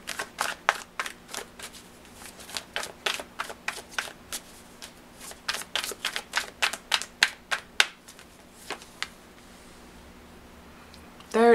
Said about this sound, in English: So let's pull some oracle cards.